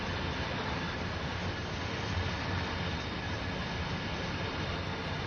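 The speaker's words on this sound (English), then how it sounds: "It's a long old freight train." Long freight train on Cajon Pass in the Train Sim World 3 game, a steady, dense rumble and roar that stays constant at moderate level throughout, with no speech.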